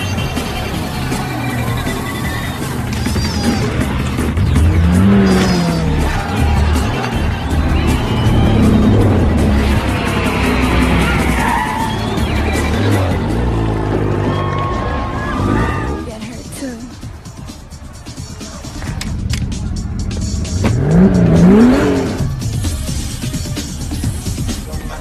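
Street race cars from The Fast and the Furious rev and accelerate with brief tire skids, the engine roar dense and continuous across the clip, rising and falling in pitch, mixed under heavy film-score music and dialogue.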